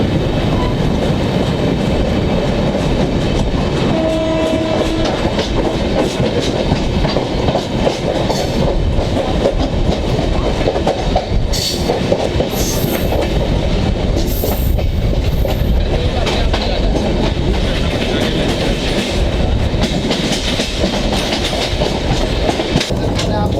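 A Central Railway 22222 Rajdhani Express push-pull train runs on rails between Kalyan and Mumbai, heard from on board as a loud, continuous rumble and rhythmic clickety-clack. Faint wheel squeals surface partway through.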